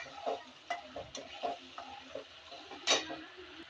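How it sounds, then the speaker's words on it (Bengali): Spice paste with fenugreek seeds fried in oil and stirred for a boal fish curry, with repeated scraping and clinking of a spoon against the pan over a soft sizzle, close and fairly quiet. "এই যে মশলাটা কষিয়ে নিচ্ছি"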